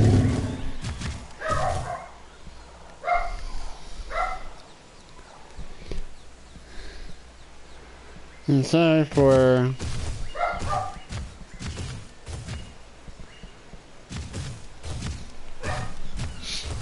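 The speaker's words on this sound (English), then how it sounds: "if you can hear my dog barking in the background" A dog barks in the background of a room, a short burst of loud barks rising briefly over a person talking steadily throughout.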